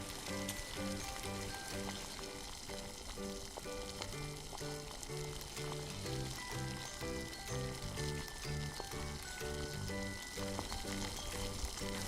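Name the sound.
noodles frying in hot oil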